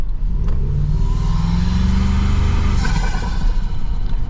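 A 2025 pickup truck's engine and exhaust rumble loudly up close, low and steady with a brief rev swell, heard from inside the cab with the window down.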